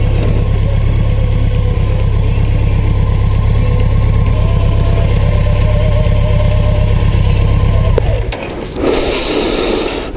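A heavy motorcycle of nearly 300 kilograms idles steadily with a low, throbbing rumble, then the sound cuts off sharply near the end, leaving a brief noisier tail.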